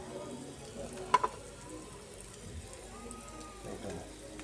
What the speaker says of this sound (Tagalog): Gisa natin sa star margarine